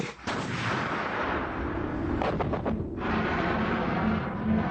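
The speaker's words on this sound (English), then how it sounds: "The safety trigger and press to fire the missile." A Starstreak missile fires from its launcher with a loud, sudden blast that gives way to a sustained roaring rush as it streaks away.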